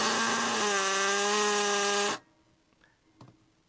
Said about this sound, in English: the hammer drill with my special tool that has a little cup in there, and that smooths out the hammered part of the end